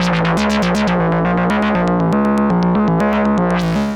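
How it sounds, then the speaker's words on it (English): Moog Messenger monophonic analog synth playing a quick plucky sequenced riff of short, snappy notes over a steady low pitch, loud and upfront with no talking. "This is the Moog Messenger, and it's a monophonic analog synth with a ton of features."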